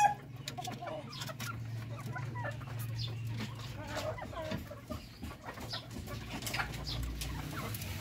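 A rooster clucks in short, scattered bursts close by, with soft rustling and low background hum between the calls.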